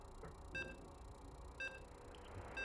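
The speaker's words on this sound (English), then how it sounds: "You can hear the beeps." Three short electronic beeps from a StarCraft 2 match loading screen, evenly spaced about a second apart, thin and quiet over a low steady background hum.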